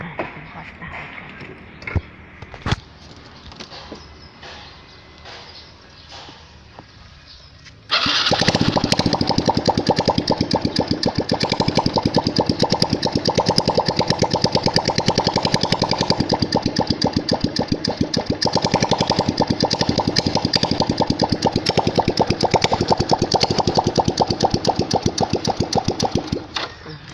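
A Honda Wave 110 motorcycle with its exhaust pipe removed starts after a few quiet seconds, then runs loud and close with a raw, rapid, steady engine clatter until the end.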